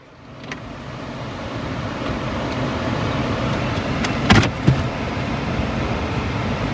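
A car drives uphill with a steady low road and engine rumble inside the cabin, broken by a couple of brief clicks and knocks near the middle.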